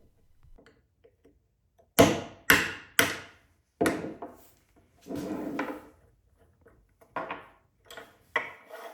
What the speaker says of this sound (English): Use a 10 or an 11 millimeter socket and a small hammer to gently tap the adapter out.